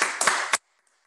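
Brief burst of applause from a church congregation, a few loud rushes of clapping over about half a second, then cut off abruptly into silence.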